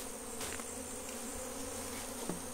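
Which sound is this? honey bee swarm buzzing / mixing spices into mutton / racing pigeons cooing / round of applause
honey bee swarm buzzing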